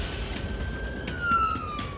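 An ambulance siren wails on blue lights in the West Midlands, a steady two-tone tone heard from inside or near the vehicle over a constant engine and road rumble, with no talk.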